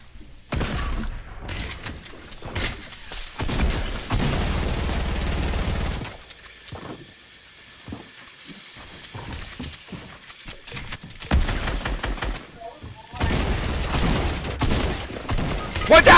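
Video game gunfire comes in several loud bursts of rapid shots with cracks and mechanical clatter, broken by quieter gaps where players talk.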